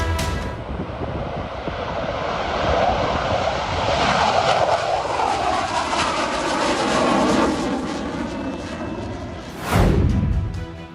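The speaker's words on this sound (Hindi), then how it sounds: "पूरी दुनिया की नजर मेरे हिंदुस्तान के बनाए हुए इस लड़ाकू विमान पर है" A Tejas fighter jet roars with a loud, sustained engine drone that swells through the middle, then a sharp whooshing surge near the end as it passes close by.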